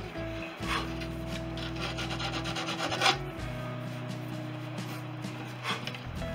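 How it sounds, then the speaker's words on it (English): Gentle hand sanding of a composite leading edge on an aircraft rudder, a close, steady rasping rub with soft strokes running throughout and a few slightly louder passes. "A nice gentle sand."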